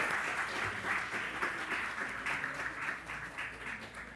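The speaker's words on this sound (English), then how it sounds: "just a round of applause for everyone" Applause from the audience at a graduation ceremony for G.C. Foster College in Trinidad and Tobago, a steady moderate patter of many hands lasting throughout at a slight distance.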